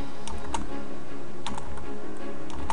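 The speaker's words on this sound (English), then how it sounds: "So I'm just going to go ahead and type in convert" Keystrokes on a computer keyboard while entering code in a C# program in Visual Studio 2010, a sparse run of light clicks in small clusters, close and fairly quiet, with no talking.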